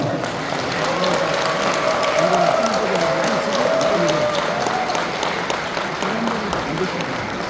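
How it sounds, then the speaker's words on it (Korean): An audience applauds to welcome a psychology professor lecturer to a special lecture at a church, sustained clapping throughout, with a faint tonal sound running underneath. "우리 강사님을 힘찬 박수로 맞이하겠습니다."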